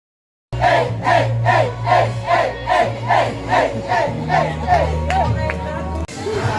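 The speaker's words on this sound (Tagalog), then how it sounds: "Isang malakas na sigawan para sa ating bagong kasal." Wedding guests at a reception shout and cheer together for the newlyweds in loud rhythmic bursts, with a steady crowd roar and a low musical hum underneath.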